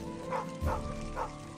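A video game dog gives three short woofs spaced about half a second apart, fairly loud and close over a steady game music background.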